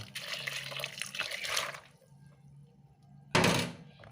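Water is poured onto beans for a Thai baked custard dessert, a close rushing pour for about two seconds, then a short, louder splash after a pause.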